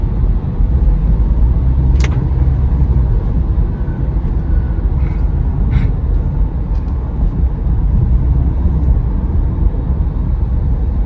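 Heavy morning traffic on Phahonyothin Road in Bangkok, inbound near Bang Khen circle toward Kasetsart University, makes a loud continuous rumbling roar of passing vehicles with a few faint higher-pitched accents.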